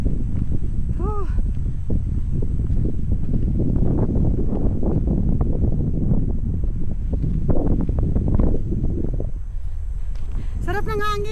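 Steady wind rushes across the microphone throughout, with a low buffeting rumble and people talking over it, on a hiking trail in Bataan National Park, Philippines.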